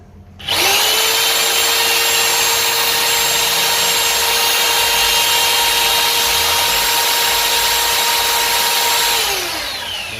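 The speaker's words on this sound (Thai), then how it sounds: "เดี๋ยวผมจะทำการกดสว่านนะครับ" An electric drill, powered from a 2000-watt inverter, spins up sharply, holds a steady high whine for several seconds, then winds down near the end.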